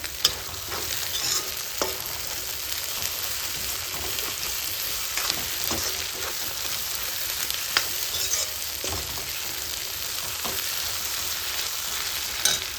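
Spice powders like chili and garam masala stirred into sizzling onions for a pork roast, a continuous loud frying hiss with repeated spoon scrapes and taps throughout, no speech.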